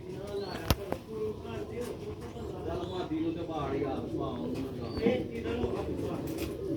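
Sialkoti black-faced pigeons cooing in a loft, soft repeated throaty coos rising and falling under someone talking nearby, with a sharp knock near the start.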